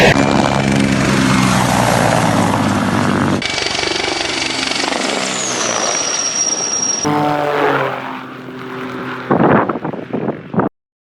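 A Hind attack helicopter roars loudly and steadily with heavy rotor-blade thumping and engine whine, shifting across several cuts and ending in rapid choppy bursts, with no talk over it.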